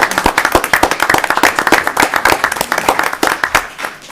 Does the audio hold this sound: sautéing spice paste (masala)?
no